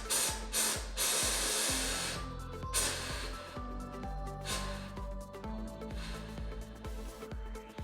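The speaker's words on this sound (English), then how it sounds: "we're going to go ahead and degas the rifle" Pressurised air hisses out of an Umarex Gauntlet PCP air rifle being degassed with its tool, several sharp spurts followed by a longer fading hiss and faint clicks, close up.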